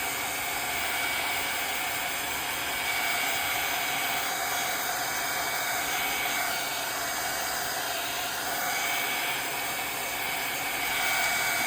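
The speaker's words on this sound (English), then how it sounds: "I'm just gonna use my heat gun for this" A heat gun blows a steady, loud, unbroken rush of air onto a stamped paper pumpkin greeting card, with no talk over it.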